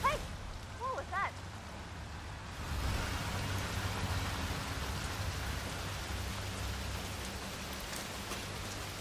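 Steady rain pouring in Hitman 3's Chongqing level, a dense continuous hiss that swells after a brief quieter start with short chirping sounds, then holds loud and even to the end.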